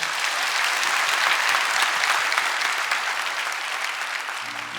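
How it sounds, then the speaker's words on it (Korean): A church congregation at a Sunday worship service applauds three newly baptized members as they greet everyone, a steady wash of many hands clapping close and full for the whole stretch, easing slightly toward the end. "세 분 인사하실 때 박수로 축복해 주시기 바랍니다"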